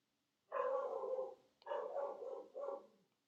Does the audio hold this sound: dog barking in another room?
yes